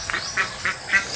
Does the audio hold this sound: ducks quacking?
yes